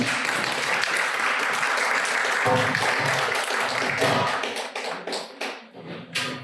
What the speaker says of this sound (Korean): 서로 박수로 응원하겠습니다.